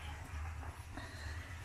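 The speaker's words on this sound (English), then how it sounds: "I could hear that the mixer's on" A concrete mixer runs steadily at a road construction site in the Philippines, a continuous low mechanical rumble with broadband noise layered on top, moderately close and unbroken, with no voices.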